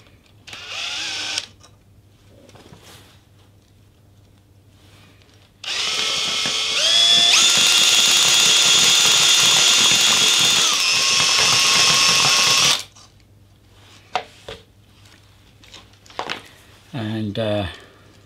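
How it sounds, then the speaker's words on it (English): A battery drill spins as wire is wound around a nail, giving a loud, steady whirring burst of several seconds that winds down, with speech before and after. "I think I might add my battery drill to the thing."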